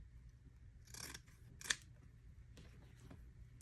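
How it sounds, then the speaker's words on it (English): Scissors snip through a sewn fabric seam to trim it down, a few quiet crisp cuts with one sharper click, close up in an otherwise still room. "then I'm going to trim the seam down"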